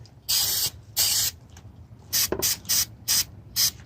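An aerosol cleaner sprays into a Holley carburetor being rebuilt on a Chevrolet Scottsdale truck in a series of short, close, loud hissing bursts, two longer ones and then several quick ones, with faint clicks between.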